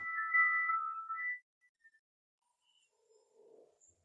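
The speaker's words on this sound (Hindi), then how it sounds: "फोन बज रहा है" A short electronic ringtone melody of steady high tones plays for about a second and a half, then stops, leaving faint soft noises.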